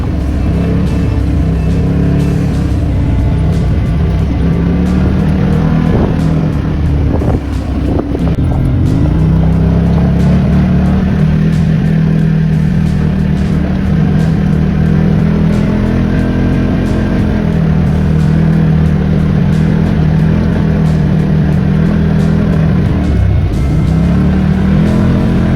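Off-road vehicle engine accelerating on a trail out of a recreational area toward Big Bear, a loud continuous low rumble mixed with steady wind buffeting, with no speech.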